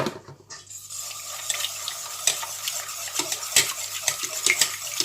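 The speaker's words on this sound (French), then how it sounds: "on va battre 5 œufs avec donc du sel et du lait" Five eggs with salt and milk get whisked in a bowl, a quick, steady clicking and sloshing that patters on at close range.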